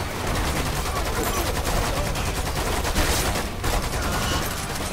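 Dense, continuous automatic gunfire fills Lost Planet 2 combat, a loud unbroken rattle of shots across the whole stretch with faint voices buried underneath.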